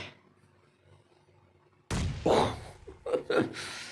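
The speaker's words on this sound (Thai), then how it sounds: "เอาระเบิดไปละ สักลูกครับ" A grenade blast in PUBG Mobile bursts in abruptly after near silence, a loud boom followed by a couple of trailing impacts and rumbles close by.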